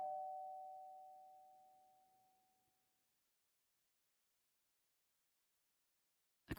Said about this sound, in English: our negotiator fixes her hair and rings the doorbell